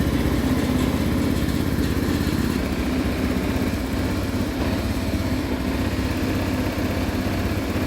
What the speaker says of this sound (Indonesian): Selanjutnya silakan dinyalakan motornya.